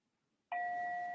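A bell is struck once after a brief silence and rings out with a clear, steady, sustained tone that hardly fades.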